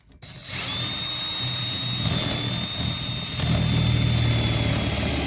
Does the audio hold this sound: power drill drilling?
yes